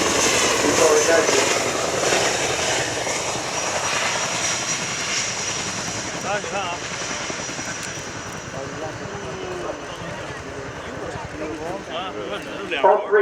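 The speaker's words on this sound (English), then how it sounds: "We will now land the aircraft on the runway" An aircraft landing on the runway at the RIAT 2016 Fairford airshow, a steady loud engine roar that holds throughout, with a voice talking over it.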